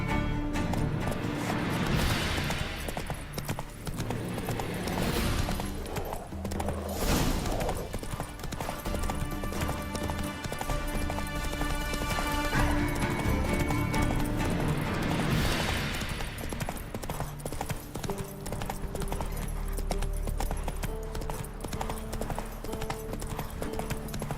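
Roach the horse gallops in Witcher 3, hooves clip-clopping in a steady rapid rhythm over a continuous bed of game music and ambience.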